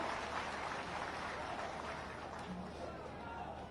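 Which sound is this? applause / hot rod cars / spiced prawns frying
applause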